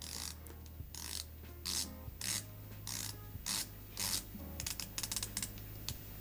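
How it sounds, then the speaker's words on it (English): A titanium dive watch bezel, a Helson Shark Diver or Armida A1, being rotated in several bursts of quick, close metallic ratcheting clicks, separated by brief pauses, with no voices. "Big sign crown, really nice bezel action for a titanium watch."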